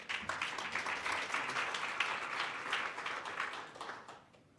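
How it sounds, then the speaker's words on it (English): Audience applause at an accountancy conference, a dense steady burst of many people clapping that holds for several seconds and then tapers off toward the end. "I think he deserves an applause now."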